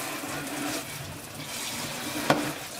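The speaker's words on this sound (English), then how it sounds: "Next thing we're going to do is just rinse them off. Make sure they're good and clean." Lobster claws are rinsed under running water, a quiet continuous splashing and trickling with a sharp knock or clatter near the end.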